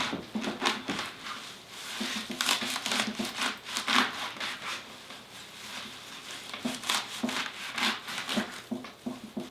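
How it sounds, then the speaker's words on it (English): Kale leaves being roughly cut for kale chips, giving a steady run of crisp crunching, crinkling cuts with a rapid, uneven rhythm, close and moderately loud, with no voices. "All you have to do is cut your kale grossly."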